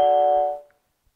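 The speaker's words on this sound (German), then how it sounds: "Wenn also jemand klingelt" A Google Nest Hello smart video doorbell gives one clear, loud electronic chime that rings out and decays to silence within about three quarters of a second.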